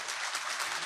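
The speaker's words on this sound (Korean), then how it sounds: "지금까지 고생해 주신 6분한테 큰 박수 보내주십시오" A studio audience applauds six panel guests at the close of a live Korean political talk show. The dense, steady hiss of many hands clapping fills a brief, moderately loud burst with no talking over it.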